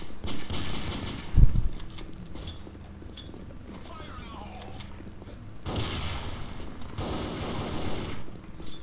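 AK rifle bursts in the Sudden Attack shooter, rapid automatic fire with one loud close volley early on and lighter rattling shots later over continuous game background noise.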